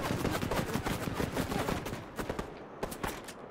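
Fortnite gunfire: a dense, continuous stream of rapid shots, loud and close, thinning into scattered separate bursts toward the end.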